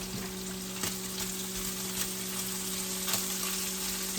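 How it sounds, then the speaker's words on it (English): Onions and garlic sauté in a pan with a constant close sizzle, marked by a few soft clicks of stirring and a faint steady hum behind. "we're going to saute up some onions and some garlic"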